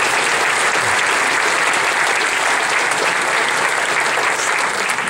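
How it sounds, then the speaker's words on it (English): A town hall audience gives a round of applause for a village team and its mayor, a dense, steady wash of clapping from many hands, sustained and even throughout. "Can we have a round of applause for the Arlington Heights team and Mayor Mulder and her team?"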